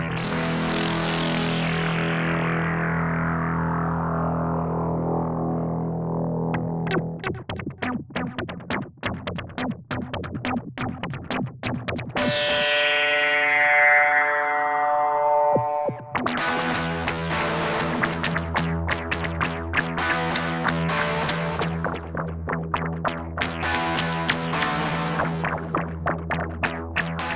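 An electric guitar with a synth-like, processed tone: a long decaying note, a rising swell, then fast picked notes trailing off in echoing repeats.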